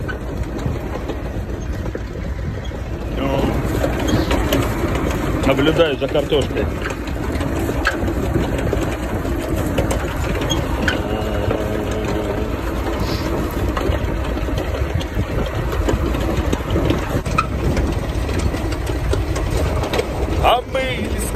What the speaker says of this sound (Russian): Я просто катаюсь на тракторе.